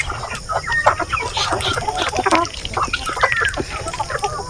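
Several chickens cluck and squawk together inside a farm coop, a busy overlapping chorus of short calls over steady background noise, fairly close and loud with no speech.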